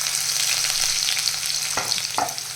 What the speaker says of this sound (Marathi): इथे लगेच कांदा टाकून घेत आहोत